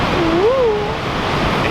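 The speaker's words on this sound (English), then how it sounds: "you can really tell the flow and the rage of the water" Horseshoe Falls at Niagara Falls, heard from close by on the Canadian side, a loud, constant roaring rush of water, with a brief whistle-like tone over it.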